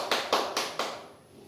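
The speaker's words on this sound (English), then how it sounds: "Let's give ourselves a round of applause" Four sharp, evenly spaced claps from a small group in a classroom, fairly close and dry, fading quickly after the last one with no talk.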